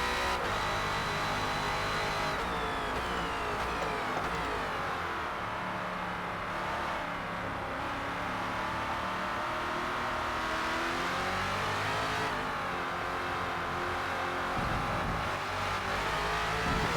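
Ford Falcon FG X race car engine in Forza Motorsport at Catalunya, loud and sustained, revving hard and bouncing against the rev limiter, with pitch sweeping down and back up through shifts and corners.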